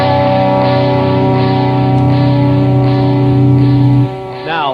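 A loud distorted electric guitar rings out a sustained suspended second chord in a custom tuning, holding steadily for about four seconds before cutting off into a short, sliding bent note.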